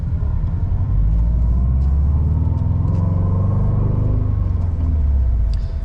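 A 2018 Subaru WRX STI engine revs up and pulls away from a stop, a close, loud low rumble rising in pitch through the run and then easing off, with no talking over it.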